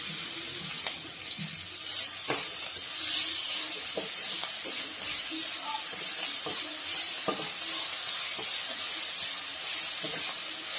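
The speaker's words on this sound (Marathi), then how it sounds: "त्याच्यामध्ये टाकणार आहे मी हिरवी मिरची आणि लसूण वाटून घेतलेली पेस्ट टाकणार आहे" Green chilli and garlic paste goes into a pan of fried onion and sizzles steadily with a bright hiss, while occasional stirring clicks and scrapes sound close by and no one speaks.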